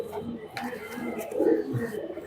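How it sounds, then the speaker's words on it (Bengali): A Pakistani racing pigeon gives soft, low cooing calls, close and moderately loud, repeated across the moment with a few rustling sounds around it. "এই যে কবুতরটা দর্শক, অনেক চতুর কবুতর, অনেক লাফালাফি করে।"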